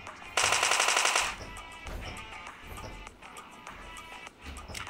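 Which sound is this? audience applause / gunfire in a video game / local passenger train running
gunfire in a video game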